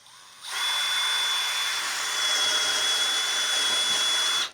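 A power drill bores through a wooden stud during renovation of a ruined house in southern France, giving a steady, loud, high whine that holds for about four seconds before cutting off, with no voices.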